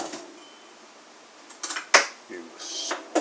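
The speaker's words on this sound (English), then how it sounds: "you stir it up with a spoon" A spoon stirs French vanilla cappuccino mix and water in a cup, giving a few light, scattered clinks and scrapes against the container, close by and fairly quiet.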